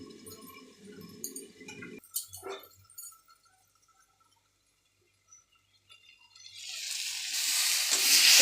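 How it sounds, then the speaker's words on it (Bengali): Potato and koi fish curry cooked in a pan, heard as a few soft stirring scrapes and clinks, a quiet pause, then a steadily rising hiss of frying as the pan is uncovered, close with no talking. "ঢাকা খুলে একটু নাড়াচাড়া করে আবার ঢেকে দিতে হবে"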